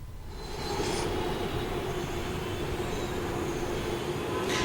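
A Hyderabad Metro Rail train runs along its line, a steady, moderately loud rumble of wheels and carriages with a faint squeal, continuous throughout and free of speech.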